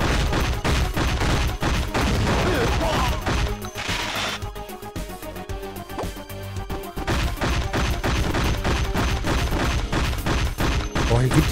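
Machine gun fire and explosions in the PlayStation 1 shooter CT Special Forces, dense, loud bursts of game gunfire that continue nearly nonstop, with a short lull partway through amid game music and effects.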